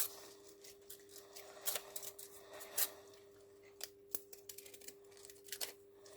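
Scissors snip postage stamps repeatedly at close range, crisp little cuts in uneven bursts against a quiet background with a faint electrical hum.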